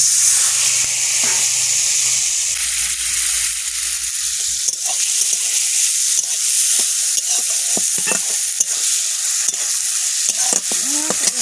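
Laylontika fish fries in a pan with a water splash, giving a loud, steady sizzle and hiss for the whole stretch. A spatula scrapes and stirs now and then.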